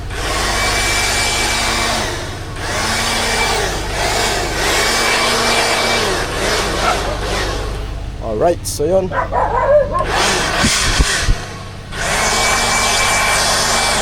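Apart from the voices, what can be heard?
cordless vacuum blower running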